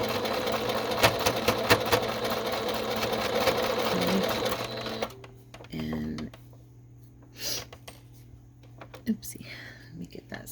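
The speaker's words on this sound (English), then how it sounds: "I just used a pin on one end to hold it together so it doesn't move on me on the bottom" A sewing machine stitches a fabric snippet strip closure for a ring binder junk journal, with a close, steady rattling run that stops partway, leaving quiet handling noises and soft murmured speech.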